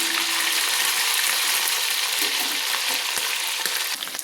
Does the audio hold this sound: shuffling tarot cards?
no